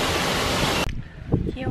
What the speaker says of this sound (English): Apparently it's a dry season, so the waterfall is a little small